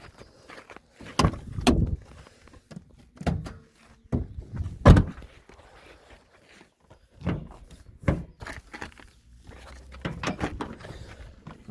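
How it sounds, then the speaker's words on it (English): Bonnet of a Mazda Bongo 2.0 litre petrol van being opened: a series of close, dull thunks and metallic clunks with short pauses between them, against quiet surroundings. "I better open the bonnet"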